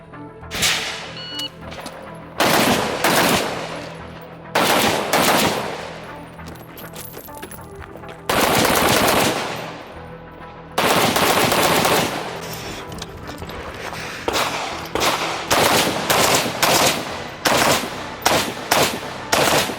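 Bursts of AK rifle fire during a timed shooting competition run, rapid strings of loud sharp cracks separated by short pauses, later breaking into quicker clusters of shots close by.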